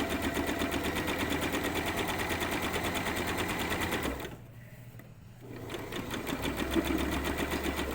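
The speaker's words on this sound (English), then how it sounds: "I'm going to stitch all the way around, lining up my edge with that the whole way" Sewing machine stitching steadily around a paperbag-style shorts waistband, a fast continuous mechanical whir that briefly pauses near the middle before resuming, close and loud with no talking.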